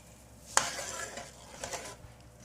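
Moong dal is stirred with golden-fried garlic and ginger for a dhaba-style tarka. A spoon clacks once against the pot, followed by soft, close stirring and faint sizzling, with no talk.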